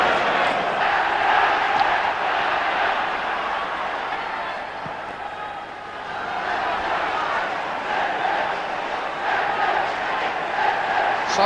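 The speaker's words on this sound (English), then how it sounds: "And a big cheer for Joe Corrigan's first touch." Football crowd at a Manchester derby between City and United, a large stadium roaring in a steady, broad swell that dips briefly and then rises again.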